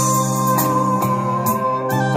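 A Thai song plays loud and full through a Tribit XSound Go 16-watt Bluetooth speaker, continuous music with a sung line and regular beats, no talking over it.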